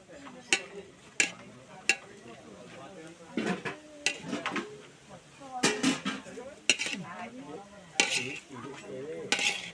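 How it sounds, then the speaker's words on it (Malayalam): A metal spoon stirs and scrapes ghee rice for biryani in a pot, with sharp intermittent clinks and scraping strokes over a soft sizzle, under quiet, muffled background talk. "അതിന് പതുക്കെ നമ്മളത് ഇളക്കണം. മാമനത് നന്നായിട്ട് ഇളക്കുന്നുണ്ട്."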